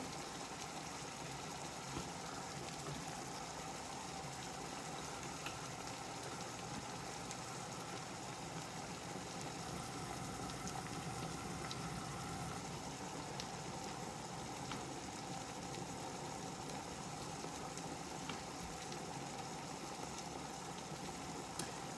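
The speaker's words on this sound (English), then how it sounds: "turn down the heat a little bit just to let this saute. These mushrooms saute." Mushrooms sauté in a pan over lowered heat, giving a soft, continuous, even hiss like light rain that holds steady throughout without breaks.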